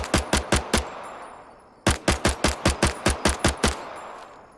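Five-seven pistol fire in the shooter game Incursion Red River comes as two loud, close strings of rapid single shots: five quick reports, a short pause, then about nine more in steady rhythm.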